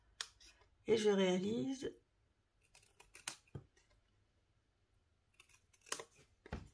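Scissors snipping through material for a pen case, a few short crisp cuts spread across the clip between quiet pauses, with someone speaking French in the middle.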